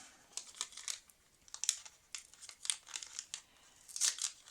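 Crinkly tearing and crumpling of advent calendar packaging from a scrapbooking kit, heard up close in quick uneven bursts with short pauses, no voices.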